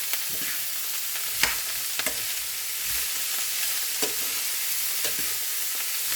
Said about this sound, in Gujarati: બધું મિક્સ કરી દઈશું